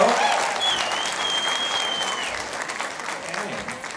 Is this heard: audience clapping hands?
yes